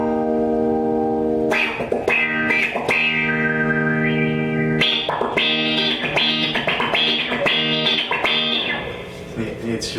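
Electric instrument run through a Mutron III-style envelope filter pedal, playing tight, percussive rhythmic stabs with sweeping filtered tone, sustained notes giving way to choppy staccato chords, close and prominent.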